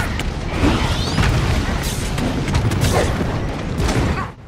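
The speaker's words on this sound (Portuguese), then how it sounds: "Eu joguei uma granada aqui, quase que eu morri junto, né?" A grenade blast in the Warhammer 40K Eternal Crusade video game, a loud booming explosion amid dense gunfire and battle noise that continues throughout.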